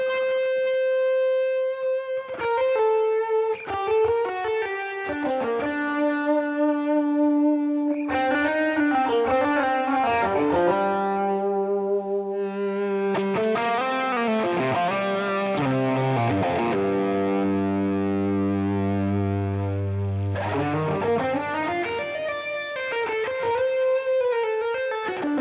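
Electric guitar lead tone on a Line 6 Helix, blending two amp models: sustained distorted notes and bends with smooth chorus-like shimmer, loud and close, playing alone.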